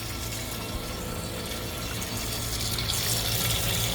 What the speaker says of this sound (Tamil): டேப்லேயே சுடு தண்ணி வரும்.